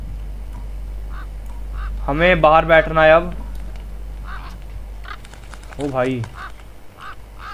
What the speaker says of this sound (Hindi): मेरे घर में कबूतर कौवे कहाँ से आ गए?